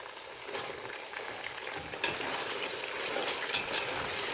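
Carrots, yellow and red, frying in a pan of oil for Samarkand plov, a steady close sizzle with occasional stirring scrapes throughout.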